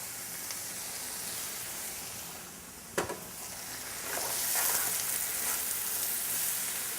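Butter melting in a pan of wilting spinach for a white wine sauce gives a quiet, steady sizzle and hiss, with a sharp clink near the middle and a brighter, louder frying hiss afterward.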